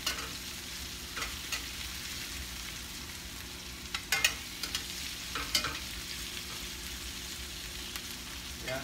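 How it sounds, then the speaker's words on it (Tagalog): Chicken and vegetables for pinakbet sautéing in a pan, with a steady close sizzle throughout and occasional clattering stirs of a utensil. "Gisa mo lang siya."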